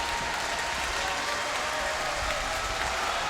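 Arena crowd at an AEW Full Gear 2020 wrestling match, FTR versus the Young Bucks, roaring and applauding in a dense, continuous wash of claps and cheers.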